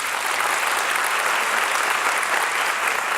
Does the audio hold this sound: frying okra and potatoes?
no